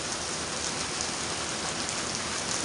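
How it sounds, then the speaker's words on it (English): Steady heavy rain drumming on a roof, a dense, constant hiss and patter close by with no gaps, loud and unbroken throughout. "He never really minds rain, though, but I think it's the loud noise on the roof."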